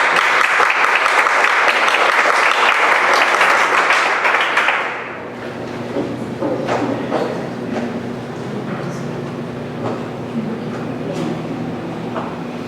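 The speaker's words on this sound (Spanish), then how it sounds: "Con este aplauso, con los pocos que nos acompañan, reciban nuestra más calurosa bienvenida" Applause from a small audience at the opening of an international pre-congress on university teaching professionalization, loud and dense at first, then cutting off about midway into scattered claps, murmuring and faint room voices.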